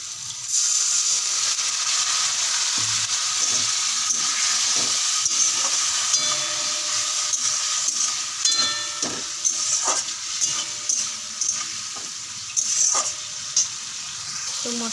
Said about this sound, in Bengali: মশলাটা কষানোর জন্য অল্প একটু জল দিব